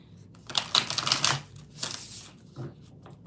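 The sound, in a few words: shuffling oracle cards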